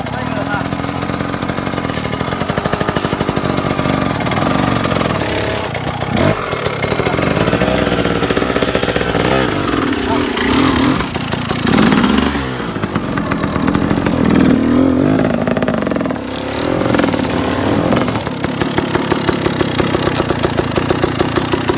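A motorcycle engine runs loudly and continuously, its rough idle rising into revs. Voices can be heard over the engine noise.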